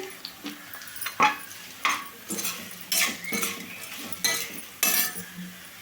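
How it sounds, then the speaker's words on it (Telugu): Potato pieces frying in oil with turmeric are stirred in a pan: a soft sizzle runs beneath repeated rhythmic scrapes and metallic clinks of a spoon on metal, about one stroke each second, with no talking. "ఆయిల్లో రెండు నిమిషాలు వేగాలండి"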